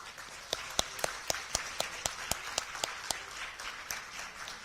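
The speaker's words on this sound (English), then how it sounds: "Shall we give him another warm round of applause?" Audience applause at a business chamber event: individual, evenly spaced claps ring out one by one over a quiet room, fairly faint and sparse rather than a full ovation.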